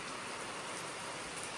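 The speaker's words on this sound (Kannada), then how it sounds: "ಮಳೆ ಬರ್ತಾ ಇದೆ, ಗಮ್ಮಂತ ಇದೆ ಭೂಮಿ ಎಲ್ಲ." Steady rain falls outdoors, a dense, even hiss of drops on surfaces that stays constant and fairly close throughout, with no voices.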